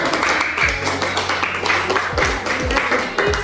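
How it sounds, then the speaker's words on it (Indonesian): Students in a classroom learning session clap for a group, a brisk, fairly loud patter of hands mixed with voices and occasional thumps. "Tepuk tangan untuk"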